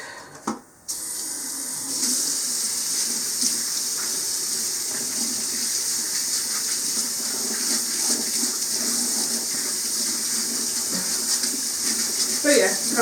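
Tap water runs steadily into a sink while paint brushes are rinsed, a continuous close hiss and splash lasting most of the clip after a brief start.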